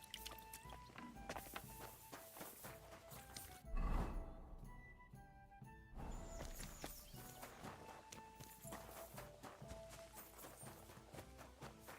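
A horse walks with steady, rhythmic hoof clip-clops in the medieval game Kingdom Come: Deliverance 2, the hoofbeats close and continuous, with a brief louder thump partway through.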